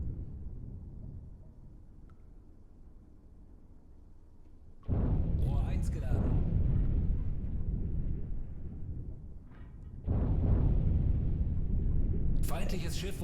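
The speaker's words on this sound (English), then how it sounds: "Torpedoes hit the enemy" Two heavy, booming blasts from torpedoes striking an enemy ship in the submarine game Uboat, each a sudden deep rumble that swells and lingers, the second arriving several seconds after the first over a low underwater drone.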